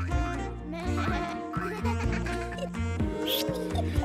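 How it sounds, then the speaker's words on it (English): Cartoon sheep Susie Sheep from Peppa Pig bleats in a wavering, sung cartoon voice over bright background music, with a squeaky rising call near the end. "Her best friend is Susie Sheep."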